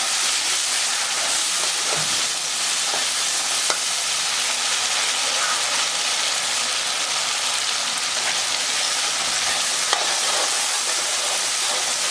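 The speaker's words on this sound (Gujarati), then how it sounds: "આપણા મગ મગ ઉમેરી અને આવી રીતે હલાવી લઈએ" Mung beans being stirred into hot oil with garam masala in a pan on medium heat, a steady close sizzle and hiss with light scraping strokes throughout, no talking.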